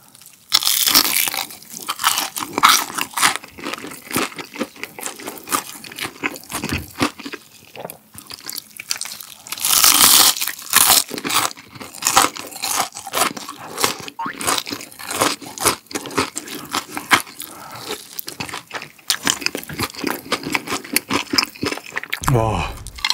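Crunchy Korean fried chicken, plain fried and sweet-spicy yangnyeom, being bitten and chewed close up in repeated crisp crunches, with louder bursts of biting at points across the stretch.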